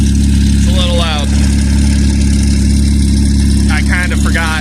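A loud engine idles steadily near a barn, with a deep constant exhaust drone throughout while someone talks briefly over it twice.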